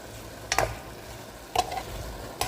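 Chicken sizzles steadily in a hot pan for adobo while a utensil scrapes and stirs three times, close and fairly quiet, with no talking.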